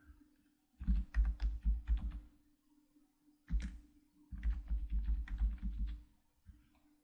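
Rapid clicking keystrokes on a computer keyboard while typing text in Photoshop, close and clear, in two bursts separated by a short pause and a steady background hum.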